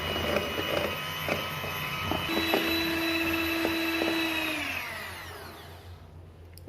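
An electric mixer whirs as it beats eggs, sugar and oil for a white forest cake batter, a steady motor whine that drops in pitch and winds down near the end.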